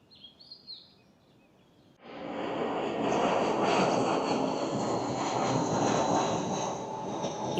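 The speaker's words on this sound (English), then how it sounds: "The contrast of just the planes flying by" After a few faint chirps near a tree-lined river, an airplane roars overhead, swelling suddenly into a loud, sustained broadband engine rush that holds and slowly thins.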